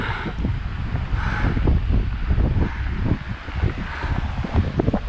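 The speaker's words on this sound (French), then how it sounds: "Voilà la mer les copains." Blustery wind roars across the microphone at the seaside, with waves rolling in beneath it as a steady, loud rush that never lets up.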